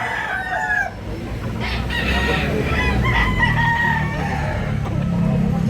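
A rooster for sale at a fowl market in Tabunok, Cebu, crows loudly and close by, with clucking and other fowl calls around it, over a noisy outdoor background.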